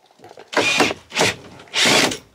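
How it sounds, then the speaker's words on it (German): Power drill working on a rusty screw inside an Iveco camper van under renovation, three short loud whirring bursts close by, separated by brief pauses. "Max und der Bohrer."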